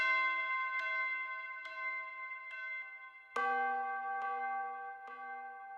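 A pitched-down bell sample rings in a music production setting, struck several times at a steady pace with long sustaining tones; midway it jumps to a louder, lower strike, and it plays clean with no talking.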